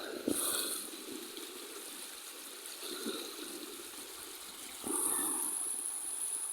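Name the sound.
river water flowing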